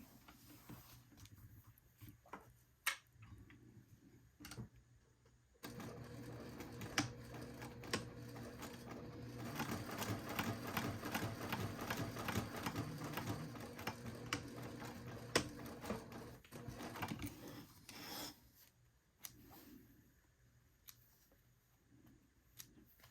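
Sewing machine stitching across a leather batwing wallet to form a card slot, a steady mechanical chatter of rapid needle strokes that swells louder mid-run, with scattered clicks and handling taps before and after.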